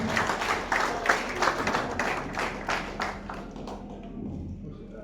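An audience at a union felicitation ceremony claps loudly to welcome a guest onto the stage. The applause is dense and rhythmic, then fades out toward the end.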